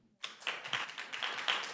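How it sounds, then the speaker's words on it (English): Audience applause at a town candidate forum in Huntersville, starting abruptly and building into steady, close clapping from a room full of people, with no talk over it. "And the clapping, thank you so much for the wonderful support in the room there"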